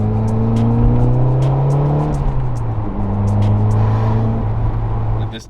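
A Toyota MR2 SW20 with its factory billet CT20B turbo pulls hard while driving, engine tone climbing steadily in clear rising gear sweeps, then a brief dip and another strong climb, loud and close, no talk.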